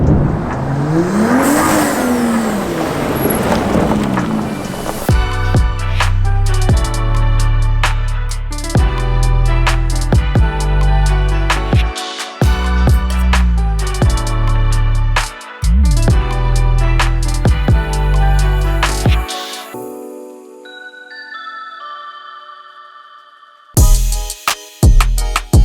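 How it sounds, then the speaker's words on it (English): BMW F30 335 with N55 turbo engine and plug-and-play Turbosmart blow-off valve, loud repeated revs with sharp venting bursts between throttle blips, ending in a short quiet stretch and a final loud burst. "install a plug-and-play blow-off valve on your F30 335 to make it sound"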